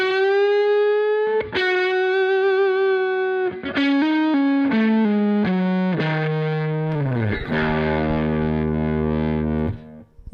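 Slow rendition of a distorted electric guitar lick: single bent and sustained notes step downward one by one, ending on a ringing chord that decays, loud and alone.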